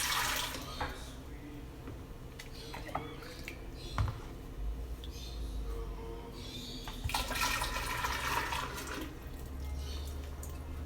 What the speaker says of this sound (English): I'm just filling it up